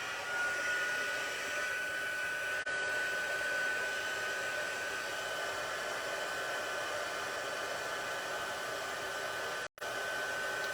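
Embossing heat tool blowing steadily to melt embossing powder on a festive card, a continuous close airy whoosh with a faint whine, uninterrupted for the full length.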